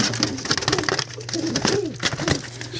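Pigeons coo close by in repeated soft, throaty calls that rise and fall, continuing over a steady background hum.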